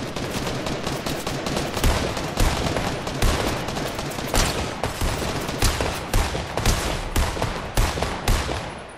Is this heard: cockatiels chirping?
no